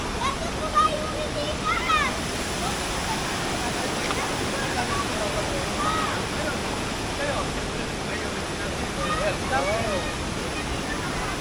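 Water rushes steadily through a swimming pool drain, a continuous dense wash of flow heard up close, with voices talking faintly underneath.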